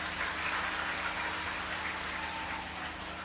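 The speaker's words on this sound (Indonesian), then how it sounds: "Tepuk tangan untuk para ibu." An audience applauds for the mothers during an Indonesian religious lecture, a dense, steady wash of clapping that fills the whole stretch without a break.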